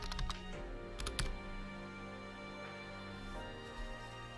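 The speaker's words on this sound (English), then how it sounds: "I have to keep typing." Quick bursts of keystrokes clatter on a computer keyboard, close and fairly faint, a few clustered taps early on, then sparser clicks under a steady background hum.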